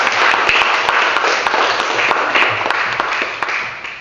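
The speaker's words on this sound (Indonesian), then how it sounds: "Beri aplaus dulu." A live audience claps and applauds after a talk about making chips, a dense, steady round of many hands that fades slightly toward the end.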